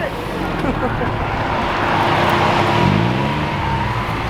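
An Aston Martin V12 Vantage with a front-mounted V12 cruises along, its engine a loud, steady droning roar heard from inside the cabin, with the pitch climbing briefly as it pulls harder.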